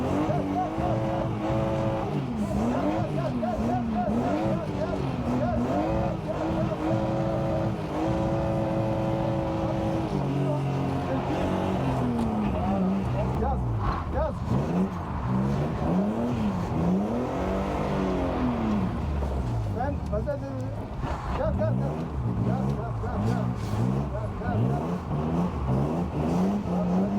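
A car engine revs continuously under throttle while driving, pitch rising and falling through repeated acceleration sweeps and gear changes, loud and steady throughout, with a voice speaking over it.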